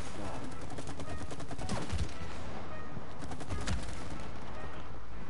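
Rapid bursts of gunfire from the video game It Takes Two crackle in quick repeated volleys, loud and close over a busy game soundscape.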